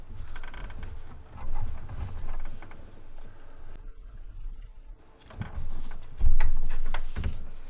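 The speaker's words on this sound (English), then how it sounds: "from here we're just going to go ahead and secure it with the ratchet" A ratchet tightening a bolt on a newly fitted power steering pump of a Nissan VQ40 engine in a Pathfinder, Xterra or Frontier, with bursts of close mechanical clicking and metallic scraping separated by brief pauses.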